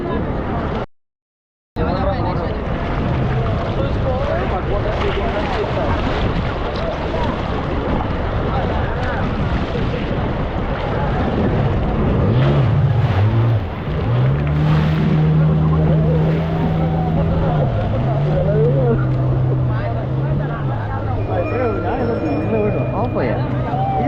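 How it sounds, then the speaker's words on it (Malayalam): A jet ski water scooter roars across the sea in Goa, its engine droning and shifting pitch amid wind buffeting and water spray, close and loud, with people talking over it. "വാട്ടർ സ്കൂട്ടർ ജെറ്റ് സ്കീയിൽ ജസ്റ്റ് ഒരു റൗണ്ട് അവർ നമ്മളെ കൊണ്ടുപോകും"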